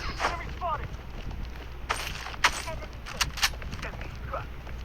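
Turret in a first-person shooter video game firing sharp bursts of shots amid game noise, with a player talking in the background.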